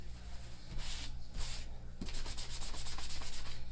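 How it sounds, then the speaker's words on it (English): A microfiber cloth buffs Chalk Couture wax into a Dollar Tree surface, making close, repeated rubbing swishes in short strokes that grow quicker and steadier toward the end, with no voice. "And I'm just going to buff that wax in."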